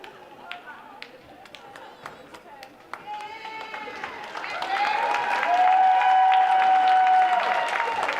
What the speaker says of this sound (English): Another big round of applause as she strolls on over to centre court.